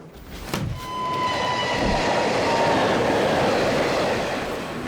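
A train rolls steadily along the rails, a loud continuous rumble with clattering wheels and a faint squeal, heard alone and close.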